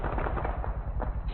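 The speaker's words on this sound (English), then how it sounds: "Rocket, rocket, rocket." A MAAWS recoilless rifle fires a rocket during platoon training outdoors, a heavy booming blast with rumbling, overlapping reports that fill the whole moment, loud and close.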